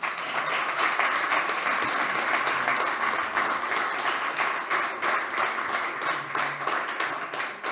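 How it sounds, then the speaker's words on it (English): A crowd at a Demo Day evening event applauds, a sustained, even roar of many clapping hands heard fairly close and steady throughout, with no pause or fade. "a big applause for everyone else."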